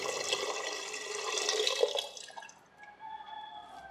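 Water for Malabari ghee rice is poured into a pot, giving a soft, steady splashing rush that tapers off halfway through, leaving faint trickles and drips.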